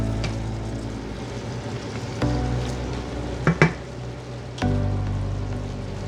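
Chicken leg tinola being stirred in a cooking pot, with a steady simmering hiss and a few distinct clinks and scrapes of the utensil against the pot, close by and without talk.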